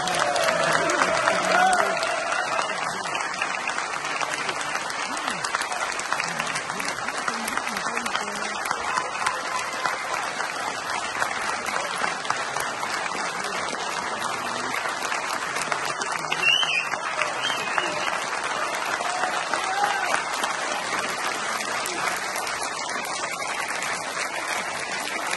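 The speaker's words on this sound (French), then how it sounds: "Je vous demande d'applaudir" Audience applause at a French political gathering, a long, dense and steady roar of clapping that holds at a constant level for the full duration with no talk over it.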